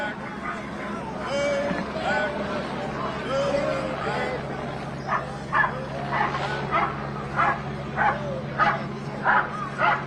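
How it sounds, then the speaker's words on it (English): A police K9 unit dog barks repeatedly at an outdoor crowd event, a series of sharp yips and barks in the middle distance, mixed with crowd chatter and a steady low hum. "that barking that you're hearing, that's the police canine unit"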